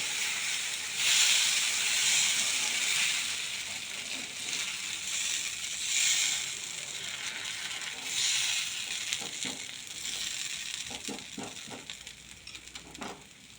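Neer dosa frying crisply in a pan hisses and sizzles steadily, then breaks into scattered crackling pops as it crisps, close and fairly loud with no talking.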